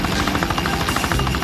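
A cartoon helicopter's rotor chops in a rapid, steady rhythm, loud and close, filling the short stretch without any voices.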